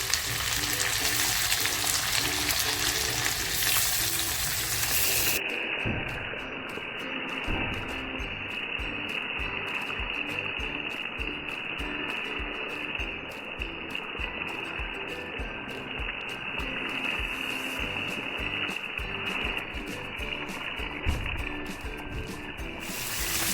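Rawas fish pieces rubbed with turmeric, chili powder and salt half-fry in hot oil with a green cilantro-chili paste. The sizzle is continuous and close, shifting to a finer, steadier crackle after a few seconds.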